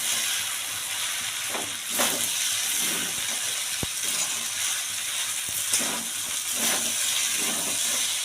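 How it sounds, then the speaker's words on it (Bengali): Katla fish head muri ghonto stirred in a pan, giving a steady soft hiss and sizzle with occasional faint scraping strokes, close and continuous, no talk. "ভালো করে নেড়ে ছেড়ে আমি নামিয়ে দেবো।"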